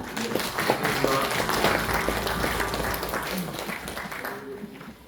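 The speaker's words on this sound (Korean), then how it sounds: "김성준 교수님의 발표를 큰 박수로 맞이해 주시기 바랍니다." A seminar audience gives big applause welcoming a professor to the podium, a steady crowd clapping that fades gradually toward the end, with faint voices mixed in.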